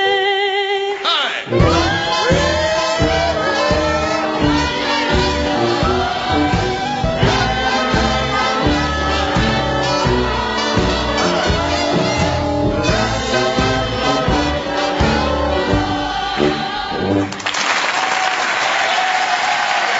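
Audience applauding after a children's choir performs with a singer, loud continuous clapping and cheering mixed with lingering music for most of the stretch, ending in a sharper crowd burst.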